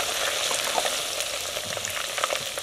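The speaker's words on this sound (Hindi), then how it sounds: "अब इस मौके पे अदरक लहसुन का पेस्ट है मेरे पास, ये शामिल कर लेंगे। इससे भी थोड़ा सा भून लेंगे" Ginger garlic paste frying with onions in a pan for mutton shorba, a steady close sizzle with occasional stirring scrapes, continuous and without any voices.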